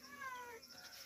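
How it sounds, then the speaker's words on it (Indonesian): Close, thin cat meows drift over low background noise in a kitchen where skipjack tuna is being cut, a couple of wavering cries in quick succession. "dengar kucing udah ya, cium aroma ikan."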